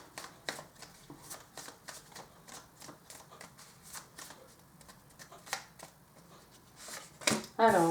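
Tarot cards are shuffled and handled in a series of crisp, close riffling flicks at an uneven pace, ending with a louder flurry of cards and a voice speaking briefly.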